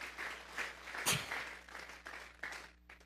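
Church congregation clapping during a Spanish-language sermon, a steady spread of hand claps through most of the moment with one louder burst near the middle, heard fairly distant in the room without talk.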